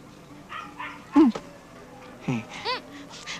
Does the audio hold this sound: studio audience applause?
no